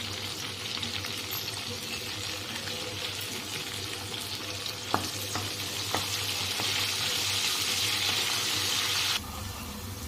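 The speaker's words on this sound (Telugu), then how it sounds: "ఇంకొంచెం నూనె వేసుకొని కొంచెం వేడైనాక ధనియాలు జీలకర్ర పచ్చిమిరపకాయలు వేసుకొని వేసుకోవాలి" Coriander seeds, cumin and green chillies sizzle steadily in hot oil in a kadai for an Andhra-style gongura chutney, a continuous close frying hiss with a few sharp clicks of stirring, no voices.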